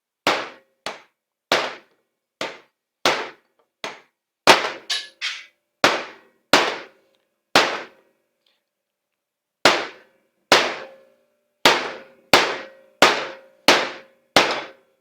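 Repeated sharp metallic hammer blows pounding a wheel bearing race into a Can-Am Traxter XT hub, about two dozen strikes in irregular bursts with a brief pause midway, each ringing out in near-silence.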